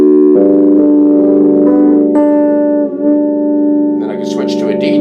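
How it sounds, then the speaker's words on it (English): A VG Stratocaster with digital modelling set to open G tuning, letting a loud ringing chord sustain with a few restrikes and brighter strums near the end. "What you're hearing is a G open tuning."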